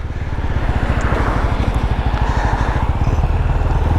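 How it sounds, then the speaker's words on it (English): A Benelli Imperiale 400 motorcycle engine thumps steadily on a city ride, its rapid, even firing pulses close and loud as the throttle opens and the beat quickens. "And oh yeah, thumping. The sound. I'm gonna open this up."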